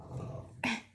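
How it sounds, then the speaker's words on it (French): A restless dog playing wildly in its basket lets out a short, sharp growling bark near the end, after a moment of low rustling. "le chien, comme il n'est pas sorti, il fait son quart d'heure de folie dans son panier"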